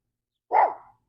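A single loud, close bark from a dog outdoors by a pool, aimed at the pool vacuum, ringing out once against otherwise quiet surroundings.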